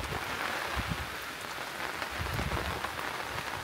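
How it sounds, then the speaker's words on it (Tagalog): Steady pre-dawn rain patters densely on a surface nearby at a campsite in Laguna, a continuous hissing wash with scattered heavier drops. "Isang ulan"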